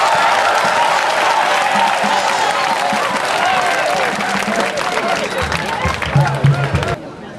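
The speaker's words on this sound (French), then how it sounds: "Nous souhaiterions que tous les élèves acclament très fort le préfet." Students clap and cheer for the prefect at a gathering of a Togolese NGO, a dense, steady roar of applause filling the room for about seven seconds before it abruptly drops away.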